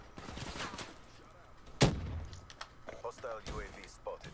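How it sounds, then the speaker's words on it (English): Gunfire in Call of Duty: Black Ops 3: one sharp, loud shot cracks out, followed later by a weaker report, with someone talking throughout. "How many times have I shot at that guy?"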